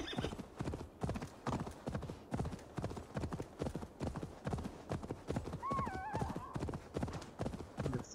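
Horse hooves clip-clop in a steady rhythm throughout as a horse is summoned in Assassin's Creed Valhalla, with a brief neigh rising midway; the galloping is close and continuous.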